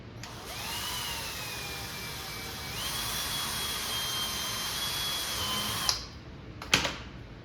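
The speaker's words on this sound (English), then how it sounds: "I'll re-drill it." A power drill whirs steadily through plexiglass for several seconds, its pitch stepping up once before it stops, followed by a couple of sharp clicks.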